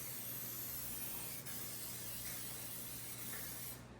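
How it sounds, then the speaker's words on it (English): Canola cooking spray hisses from a can onto food, one steady, continuous spray lasting several seconds, close and soft, with no talk. "a little bit of spray oil on top. Some people don't like this because it's canola, the cooking spray."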